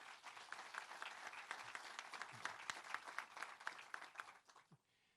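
An audience at a university partnership launch event claps together in a sustained round of applause that fades out near the end.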